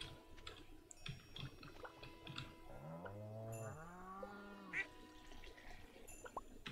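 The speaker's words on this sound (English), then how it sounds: "I think I saw a couple of cows." Cows mooing in the farming video game Stardew Valley, two drawn-out low moos in a row over soft game sounds and faint clicks.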